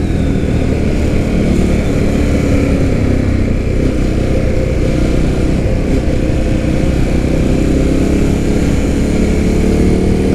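An Indian FTR 1200 motorcycle engine on a test ride outside on a sunny day, a loud, steady low drone with wind rush throughout and no talking.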